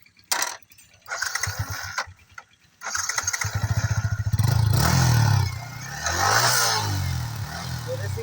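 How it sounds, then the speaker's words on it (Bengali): A racing-edition motorcycle in Mirpur, Dhaka is kicked over a few times with ratcheting clatter, then fires into a loud, close idle with throaty revs that rise and settle, heard alone. "সো আমরা যদি এই বাইকটি স্টার্ট করে সাউন্ড শোনানোর চেষ্টা করি"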